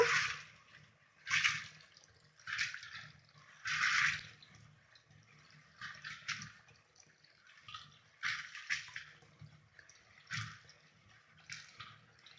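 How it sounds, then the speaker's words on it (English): Water splashes and pours out in a series of short bursts, separated by brief quiet gaps, close and moderately loud with no voices, as soaking water is drained off while making tofu (Nigerian awara). "Discard the second water."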